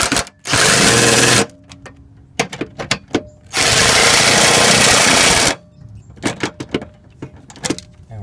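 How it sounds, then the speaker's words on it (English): A power tool drives bolts into running board brackets on a 1999-2016 Ford F250 pickup, two long loud sustained bursts of whirring with short clanks and taps between them. "we're going to shoot these bolts in."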